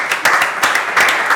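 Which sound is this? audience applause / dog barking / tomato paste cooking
audience applause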